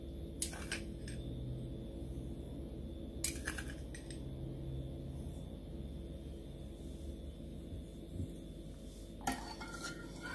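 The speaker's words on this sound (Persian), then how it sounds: "و نمک رو مخلوطش میکنم." A spoon clinks and scrapes against a glass of water as salt is stirred in, in a few short bursts, separated by quiet stretches over a low background hum.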